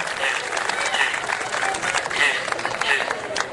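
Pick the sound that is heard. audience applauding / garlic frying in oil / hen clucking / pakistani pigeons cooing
audience applauding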